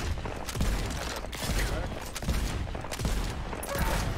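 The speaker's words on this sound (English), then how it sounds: "Oh wait, shotgun." Tiny Tina's Wonderlands shotgun fire: loud, heavy blasts repeat roughly every second and a half over dense game combat noise.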